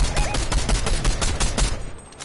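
A dense, continuous rattle of Fortnite gunfire, rapid overlapping shots, loud and close, fills the brief moment before tapering off at the end.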